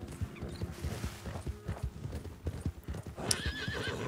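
Horse hooves clip-clop in a steady gallop in Red Dead Redemption 2, close and rhythmic, with a short neigh and some creaking tack near the end.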